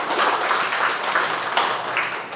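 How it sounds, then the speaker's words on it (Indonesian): A classroom audience applauding at the end of a teaching session, steady, fairly loud collective clapping that holds briefly and then starts to fade. "sekali lagi tepuk tangan dulu untuk kita semua"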